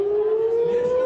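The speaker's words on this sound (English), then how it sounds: "the wail of sirens sends crowds running for shelters as Hamas continues to fire more rockets towards Israel" Air raid siren wailing in Tel Aviv during rocket fire, a loud sustained tone rising slowly in pitch, with no voices over it.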